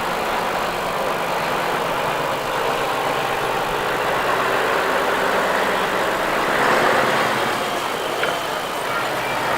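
A Scania 530 tractor unit in K&J Iveson of Hawes livery idling at a road run event, a steady, close diesel drone that holds level throughout, with faint background noise.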